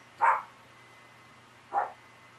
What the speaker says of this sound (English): And there's my little dog barking.